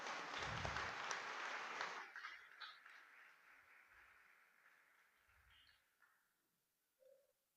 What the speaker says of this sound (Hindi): रिंकू भैया के लिए जोरदार तालियां बजाओ।